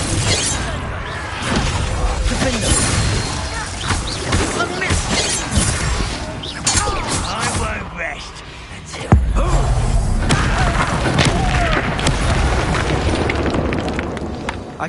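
Confringo blast spell explosions in the Hogwarts Legacy video game, loud booming impacts and crashing debris over a dense battle din, with a big hit near the middle; voices speak throughout.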